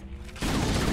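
Burst of gunfire from Halo: Combat Evolved Anniversary, starting abruptly partway in and holding as a dense, loud, continuous rattle of shots with a faint quieter lead-in.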